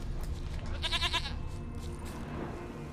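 A goat in The Witcher 3: Wild Hunt gives a single short, quavering bleat near the middle, set against a low ambient game soundscape.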